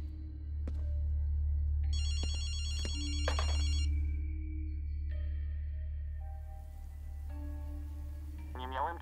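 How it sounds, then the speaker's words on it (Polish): Telephone ringing in the Ghostwire: Tokyo video game: several bursts of a bright electronic ring over a steady low hum and rain-like background, with other scattered game tones and a voice briefly. "zmodyfikowałem telefon, aby dzwonił co jakiś czas i odtwarzał nagranie"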